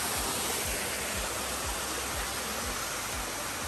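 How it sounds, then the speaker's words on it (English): A steady, dense roar of a Hawaiian waterfall, loud and continuous, with a faint rhythmic low thumping underneath. "We made it to the waterfall."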